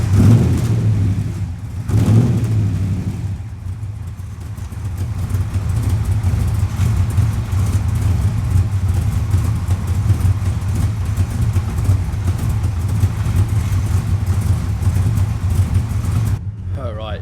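A car with an overly loud exhaust idling and revving in an enclosed space, a deep, steady rumble with a couple of louder blips early on, and someone talking over it.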